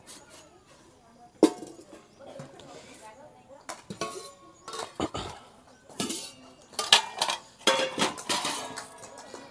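A stainless steel kadai and its matching lid knock and clank together in irregular metallic clinks and rattles, close by, with a person speaking intermittently in between.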